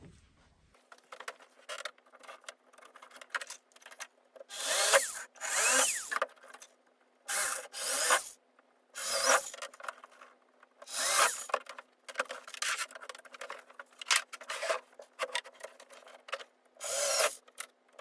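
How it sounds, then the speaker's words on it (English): Power drill boring into wood in an enclosed space, a series of loud, sharp bursts of whirring drilling separated by brief pauses, close and harsh, with no talking. "I'm drilling in an enclosed space, so I've got my Mickey Mouse ears"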